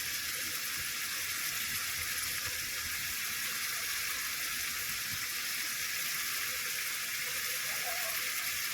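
Tomatoes with turmeric, cumin powder and chilli powder sizzle steadily in a hot pan, a loud continuous frying hiss with faint stirring underneath and no pauses.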